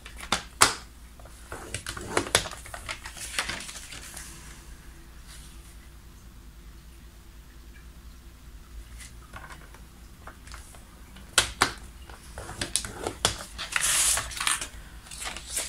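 Paper is scored and folded into creases for a pop-up scrapbook album page. Scattered scraping and crinkling rustles come in clusters over a steady background hiss, heaviest near the start and again toward the end.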